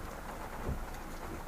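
Steady, dense rain falling during a typhoon somewhere near St. Paul Road in Pasig, a continuous close hiss with a low rumble underneath and no voices.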